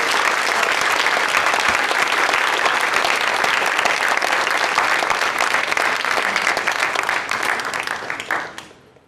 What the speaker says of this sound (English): Thank you all of you for your supportive applause.